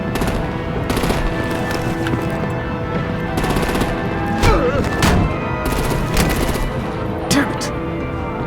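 Machine gun fire in the Batman: The Enemy Within video game, a sustained dense rattle of automatic bursts with sharper cracks and booms on top, loud and close, with voices mixed underneath.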